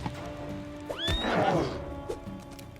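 Inside the fantasy video game Pathfinder: Wrath of the Righteous, a horse gives one brief rising neigh near the middle, set against busy game noise.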